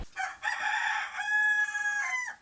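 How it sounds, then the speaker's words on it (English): A rooster of the indigenous Bigawi chicken breed crows once, close and loud: a long, sustained, harmonic call of about two seconds that holds steady and then breaks off. "This breed that Nawaya is trying to re-establish is the Bigawi chicken"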